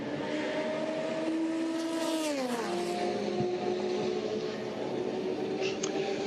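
A Porsche race car drives past during the final minutes of the Le Mans 24 Hours, its high engine note sliding down as it goes by, loud over constant crowd and track noise.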